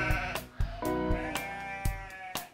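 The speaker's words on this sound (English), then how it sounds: "It's a sheep." A sheep bleats repeatedly up close, several loud wavering calls in quick succession with short pauses between them.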